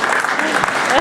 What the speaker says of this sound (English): Don't clap for him.